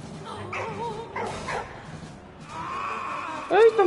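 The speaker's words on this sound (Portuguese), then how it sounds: "Não é hora de acariciar o cachorro." A dog in the video game Valiant Hearts gives a short burst of yelping, whimpering barks near the end, heard over nearby talking and game sounds.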